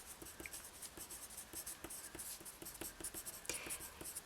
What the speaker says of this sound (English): So you do scribbles, little scribbles.